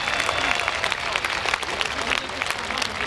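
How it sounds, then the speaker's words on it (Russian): Steady applause from a large audience, dense clapping that holds at an even level throughout with a faint murmur of voices underneath. "Аплодируем, благодарим."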